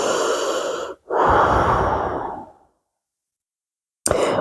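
Slow yoga breathing during a vinyasa flow: a long, airy, audible breath, a brief pause, then a second long breath fading into silence, close and clear.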